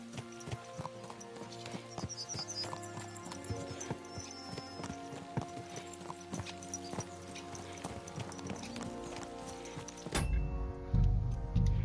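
Galloping horse hooves in Kingdom Come Deliverance 2, a steady rapid clip-clop rhythm running throughout at moderate volume, shifting into a louder rumble near the end.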